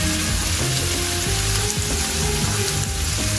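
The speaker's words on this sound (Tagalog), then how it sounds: "Lutuin natin ng konti ang ating carrots" Carrots sizzling and frying in a pan while pancit canton with chicken and vegetables is cooked, a steady close crackle and hiss running throughout with faint stirring underneath.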